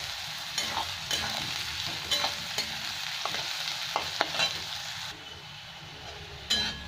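Onions frying in a pan for Bengali echor curry, a steady close sizzle with occasional stirring scrapes and clicks, no voices.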